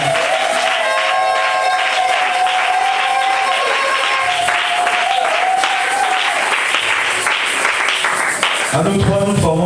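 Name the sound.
audience applauding for the secretary at church concert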